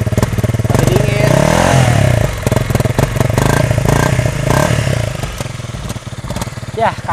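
A cold Honda CRF250 Rally or Suzuki V-Strom 250 SX motorcycle engine runs loud and close, revving with rough, uneven throttle bursts and some mechanical clatter throughout.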